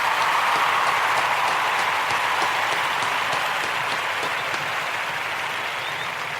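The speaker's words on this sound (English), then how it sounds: "we want to give those Ujima babies a round of applause" A large audience gives a round of applause, a loud, continuous wash of many hands clapping that holds steady and eases off only slightly toward the end.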